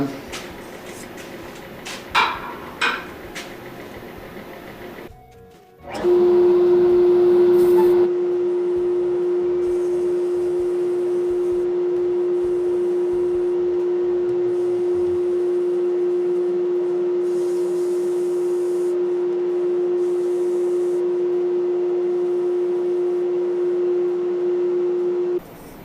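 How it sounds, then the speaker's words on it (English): A steady, loud whirring drone of a spinning wood lathe turning a speaker body for sanding, with a constant tone, running continuously after a few brief knocks and clatters at the start. "All right, sanding time."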